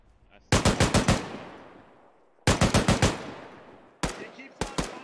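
Machine gun fire in the ArmA 3 military game, loud close bursts of about five rapid rounds each, three separate volleys with echoing tails, the last broken into short spaced shots.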